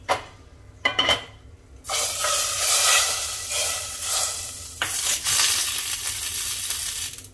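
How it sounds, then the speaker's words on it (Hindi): Hot ghee tempering with asafoetida poured into cooked dal: a few light clinks, then a sudden loud, close sizzling hiss that runs on steadily, dipping briefly before surging again. "अब इस तड़के को हम डालेंगे दाल में।"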